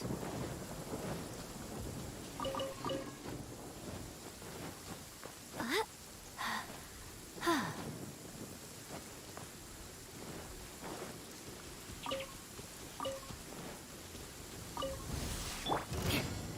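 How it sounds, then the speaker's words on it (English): Rain and thunder in a video game, a continuous patter of rain under several rolling thunder cracks that come and go at a moderate distance, with no talk. "This weather is a hindrance. The thunder drowns out all other sounds, hampering my perception of the surrounding environment."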